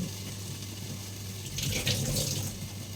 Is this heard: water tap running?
yes